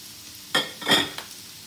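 Onion and sweet peppers fry in a pan, heard as a few quick stirring scrapes with soft bursts of sizzle against a quiet background.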